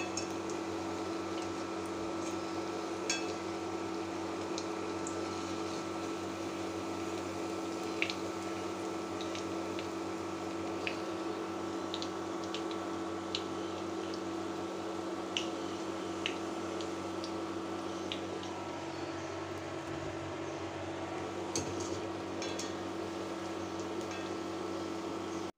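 Small onion fritters (piyaju) deep-fry in hot oil at high heat, giving a steady, faint bubbling hiss with scattered light crackles throughout.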